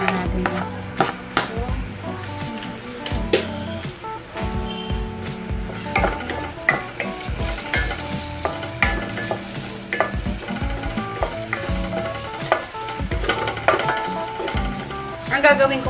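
Pork humba sizzling and frying in a pan, with repeated scrapes and clinks of a utensil stirring it, up close and continuous, while music plays faintly underneath.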